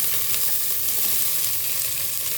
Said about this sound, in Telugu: సో దీన్ని బాగా ఫ్రై చేసుకోవాలి.